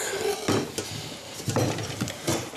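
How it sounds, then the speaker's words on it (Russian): Pieces of poultry clatter and thud into a metal pot, several separate drops with scraping and clinks, close by, no talking. "Давайте медленно-медленно насыпем уже птицу в кастрюлю."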